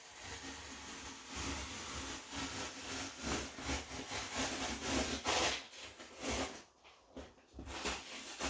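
A shipping label is peeled off a package up close, a long rasping tear that swells and fades in uneven strokes, with a quieter pause near the end.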